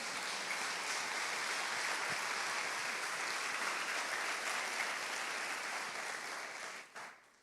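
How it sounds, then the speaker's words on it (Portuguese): A church congregation applauding, a dense steady wash of many hands clapping for several seconds before it tapers off near the end. "Você pode dar um aplauso ao Senhor por isso."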